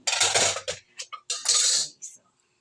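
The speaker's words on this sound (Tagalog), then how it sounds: "Habang po tayo nagluluto, hugas po tayo ng pinggan." Dishes being washed in a home kitchen, with bursts of running water, clinking plates and cutlery coming in short loud clusters separated by brief pauses.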